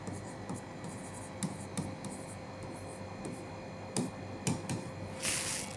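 A pen writes on a paper application form, producing soft scratchy strokes with occasional taps, close and quiet over a low background hum.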